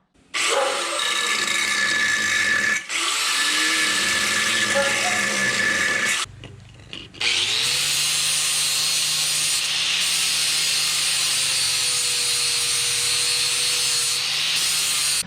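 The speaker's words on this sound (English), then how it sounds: "the washer is ground down" A metal washer from a Cummins 12-valve diesel's AFC housing is ground down with a power grinder, giving a loud, continuous abrasive whine and rasp with a short break before the tool spins up again.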